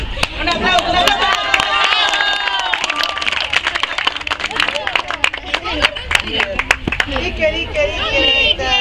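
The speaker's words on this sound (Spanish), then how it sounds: "un aplauso, un aplauso" Audience applause at a children's sports championship awards moment for the 2012 age category, with scattered claps and cheers mixed under steady loud talking from a speaker and crowd.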